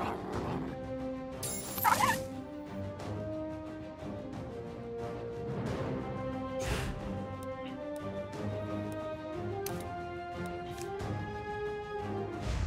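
A dog whimpers and yelps after being knocked out in a South Park video game, with short yips over game music and a brief crash of impact.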